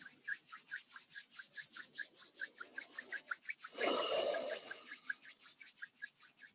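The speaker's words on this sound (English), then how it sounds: "Rub your palms together." Palms rub briskly together in a quick, even back-and-forth rhythm of about five strokes a second, close and soft, with a brief louder burst midway.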